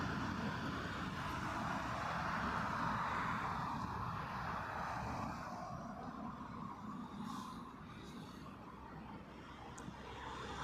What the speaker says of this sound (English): Another little run of narrow bodies now, here on 27 left at Heathrow.